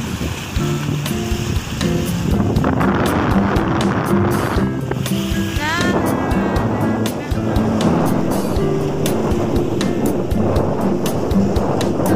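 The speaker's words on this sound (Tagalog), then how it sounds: "Ang lakas talaga ng hangin at saka alon." Strong wind and choppy waves beat around a kayak on open water during rain, a continuous loud rushing roar with sloshing surges throughout.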